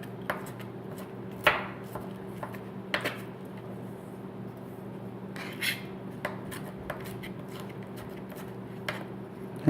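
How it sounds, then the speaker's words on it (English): A knife chops red onion on a cutting board in a home kitchen: a handful of sharp, irregularly spaced knocks and scrapes, some louder than others, over a low steady background hum, with no talking. "Chop up the red onion."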